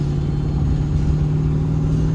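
Chevrolet Silverado truck cruising on the freeway, a steady low engine drone with a constant hum and road rumble from inside the cab, no talk.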